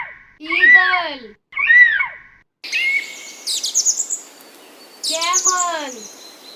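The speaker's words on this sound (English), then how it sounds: "Eagle." Piercing, close, high-pitched raptor-like calls come as two short cries, then a longer run of shrill chattering notes, with no one talking.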